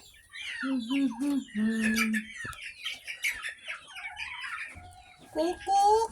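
Backyard chickens cluck, squawk and chirp while pecking at kangkong greens. Varied close calls come from several birds, with a person talking briefly.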